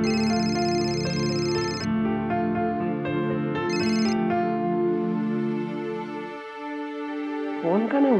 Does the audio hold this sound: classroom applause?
no